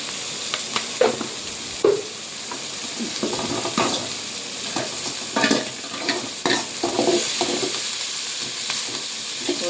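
Onion and tomato frying in a pan with salt, a steady close sizzle broken by repeated scraping stirs of a spoon against the pan, with no talking.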